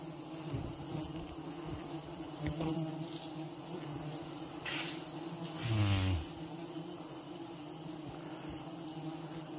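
Bees buzz steadily at a large nest in a constant droning hum, with a brief louder swell partway through; no talking.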